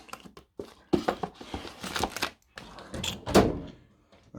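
Drawer of a Clarke heavy-duty tool box being pulled open, a series of close metallic thunks, rattles and sliding clunks in uneven bursts, with brief pauses between movements.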